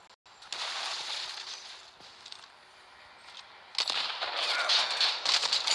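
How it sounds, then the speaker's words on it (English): Sniper gunfire in the mobile shooter Modern Combat 5 cracks out in sharp bursts amid a hissy game soundscape, with quieter stretches between louder volleys. "See if we can snipe."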